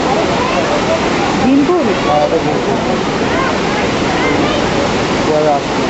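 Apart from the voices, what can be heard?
rushing water of the Saraswati river near its source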